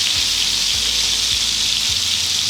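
Thick king prawns fry in oil on medium heat for a Bengali-style bhuna, a dense continuous hiss and crackle heard up close, steady and loud with no talking.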